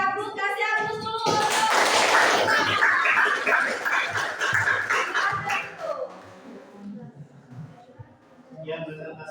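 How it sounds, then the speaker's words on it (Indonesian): A classroom audience claps after a group presentation at an Indonesian university, a burst of dense applause starting abruptly, fading gradually, with voices talking throughout. "kasih aplaus dulu"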